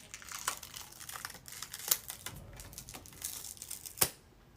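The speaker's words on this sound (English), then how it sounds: "I just rip everything off." Liquid latex special effects makeup being peeled and ripped off skin, a quiet close crinkling and tearing with several sharper rips among softer rustles.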